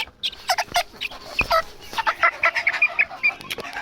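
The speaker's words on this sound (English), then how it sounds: "The Bantam version of Rhode Island Red." A bantam Rhode Island Red hen clucks in a series of short, close calls with brief gaps, then a quicker run of chattering clucks toward the end.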